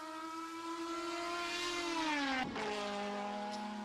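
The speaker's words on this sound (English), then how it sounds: "Glorious noise from that inline 4-pot turbocharged engine." DTM race car with an inline four-cylinder turbocharged engine at Hockenheim, its steady high-pitched engine note holding loud and close, then dropping sharply in pitch as it lifts off or shifts through the S-bends.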